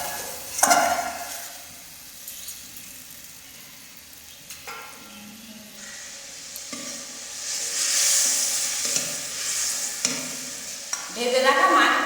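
A spoon stirs turmeric powder into a frying pan while cooking a sour fish dish. Faint scraping and gentle sizzling go on under quiet kitchen noise, rising a little toward the end.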